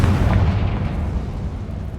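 A deep, booming blast from a Confringo spell in the Hogwarts Legacy game strikes loud and low at the start, then fades into a rumbling tail.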